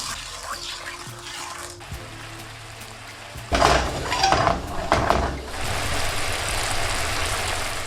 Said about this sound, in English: For the sauce in with the water, and with the sugar, mix and completely melt that sugar.